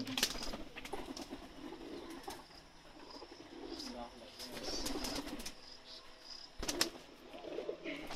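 Pakistani pigeons coo softly and repeatedly nearby, with occasional wing flutters and people talking quietly in the background.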